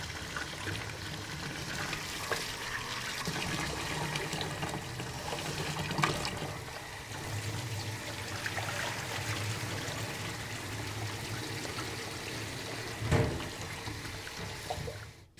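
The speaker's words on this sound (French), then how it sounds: "On nettoie le riz comme ceci. Il faut le faire 5 ou 6 fois." Sushi rice is rinsed in water by hand, giving a steady close swishing and trickling with a couple of brief louder splashes.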